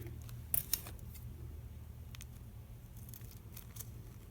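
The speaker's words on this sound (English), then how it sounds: "if I want it right there, I need to cut it right there" Scissors snip paper for a budget journal page: a couple of quick, faint cuts near the start, then soft handling noises over a quiet room.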